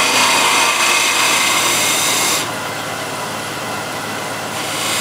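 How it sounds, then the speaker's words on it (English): A skew chisel cuts a walnut piece on a wood lathe, giving a steady broadband scraping hiss that is loud at first, drops to a slightly softer, even cut about halfway through, then swells again near the end, with no talking. "And I want to clean up the shoulder here using the skew."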